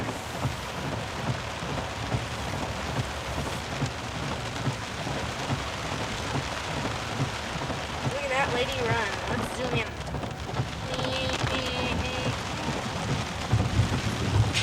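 A thunderstorm brings steady heavy rain and low rumbles of thunder throughout, while people talk nearby over the downpour.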